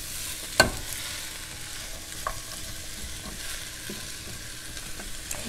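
Sausage and fennel being stirred in olive oil in a pan, a soft steady sizzle with a sharp utensil scrape near the start and a few lighter clinks after, no voices.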